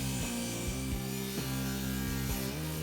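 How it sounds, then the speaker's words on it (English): A table saw with its blade tilted to 45 degrees bevels the long edges of wooden boards, a steady loud whine with sharp dips where the blade load changes, running throughout without talk. "Then we will begin to put a 45-degree bevel on the long edge of the long"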